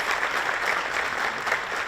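Audience clapping steadily to welcome the founder of the Turkish Futurists Association on stage, a brief, even wash of applause filling the room.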